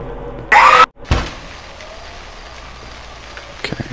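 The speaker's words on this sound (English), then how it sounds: "Okay, it is raining." Rain falls steadily in the horror video game Cry of Fear, a soft continuous hiss beneath a sudden loud burst and a dull thump near the start.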